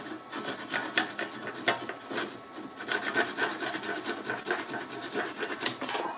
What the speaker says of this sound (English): The old Japanese pull saw there.